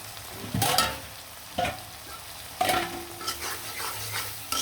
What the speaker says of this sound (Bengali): সবগুলা চিংড়ি মাছ দিয়ে দিলাম